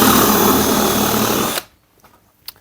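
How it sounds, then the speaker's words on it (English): A power drill boring a 12mm hole into wood, a loud steady whirring grind that stops abruptly, leaving near silence with a couple of faint clicks afterward. "we're going to drill in with a 12mm hole"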